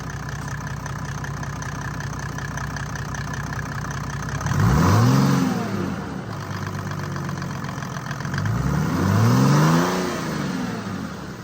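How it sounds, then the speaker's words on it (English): A 1998 Mercedes-Benz E300TD with an OM606 diesel engine and upgraded fuel injectors idles with a clattering rumble, then revs up loudly twice and drops back to idle after each rev. "I'll go ahead and rev it up for you guys"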